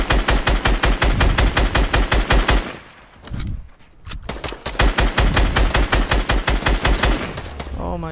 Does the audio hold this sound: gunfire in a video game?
yes